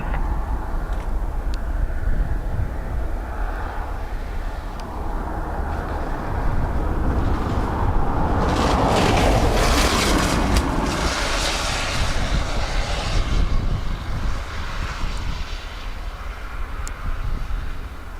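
A fixed-wing airliner lands on runway 28 left at Dublin Airport on a wet day, its engines a continuous loud roar. The roar swells to a peak midway and then eases over a long, steady rumble.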